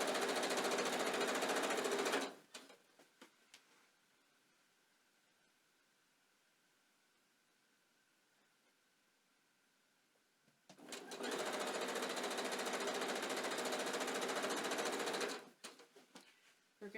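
A sewing machine stitches rickrack binding in two loud, steady bursts of rapid needle clatter, separated by a quiet pause of faint handling.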